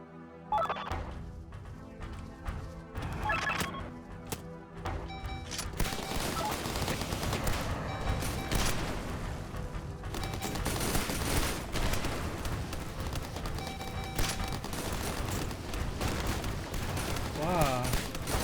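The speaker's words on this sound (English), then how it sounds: "The cluster rockets." Cluster rockets fire in the video game Gearbits as a rapid, dense barrage of explosive pops and crackling bursts, sparse at first and then a sustained, loud volley lasting many seconds, with some game tones and a voice underneath.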